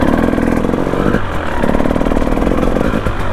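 A motorcycle rides off for green-laning on muddy lanes in Kent, its engine loud and close, revving and pulling away with a brief dip in throttle before picking up again.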